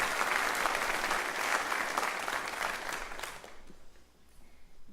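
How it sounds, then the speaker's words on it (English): A school lecture audience at a National Honor Society ceremony breaks into steady, dense applause that holds for several seconds, then thins out and fades to a few scattered claps. "So a round of applause for them as well."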